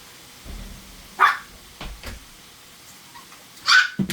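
A puppy barks indoors in a kitchen, a few sharp yips and short barks spaced apart, fairly close and clear against a quiet background.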